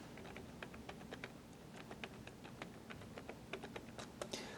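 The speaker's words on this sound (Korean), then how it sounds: "그래서 직접 타이핑으로 입력하는 것이 좋겠네요" Typing on a computer keyboard during an accounting software lesson: a steady run of light, quick key clicks, fairly faint and close, with no voices.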